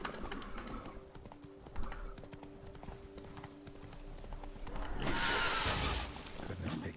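Hooves of Geralt's horse Roach in The Witcher 3: Blood and Wine, a steady clip-clop of trotting over ground, moderately close, with a louder rushing swell near the end.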